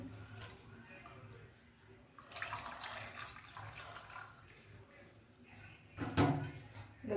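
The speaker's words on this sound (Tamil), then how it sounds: "இந்த தண்ணியை நான் அதோட ஊற்றிக்க போகிறேன்." Water splashes and pours into a cooking pot during Kasi halwa preparation, in a few uneven bursts that grow louder toward the end, set against quiet kitchen background noise.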